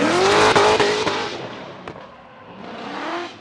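A Cadillac ATS drift car at a Formula Drift qualifying round roars past at close range, engine revving hard with tire squeal, then fading and building again as it slides through the track's outer zone.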